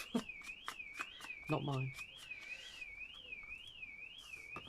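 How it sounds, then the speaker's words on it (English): A car alarm cycles outside with a rising and falling electronic siren tone that repeats steadily throughout, moderately distant, while a person briefly speaks nearby. "Somebody's car alarm's now going off."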